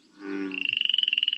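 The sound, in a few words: frog croaking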